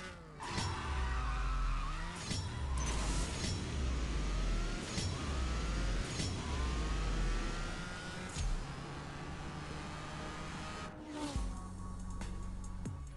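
Toyota GR Supra drag run with NOS in CSR2, engine revving hard through repeated gear shifts, each climb in pitch cut by a brief drop, loud and continuous with a whoosh near the end.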